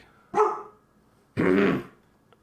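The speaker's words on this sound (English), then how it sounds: "Sorry for the dog barking." A dog gives two short, gruff barks about a second apart, fairly close, with quiet between them and no talking.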